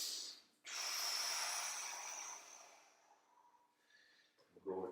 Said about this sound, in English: Go ahead and take a nice big breath in here.